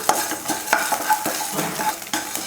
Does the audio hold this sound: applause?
no